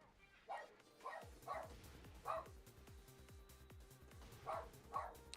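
A dog barks repeatedly indoors, several short distant yaps spaced about a second apart, faint behind a steady background hum.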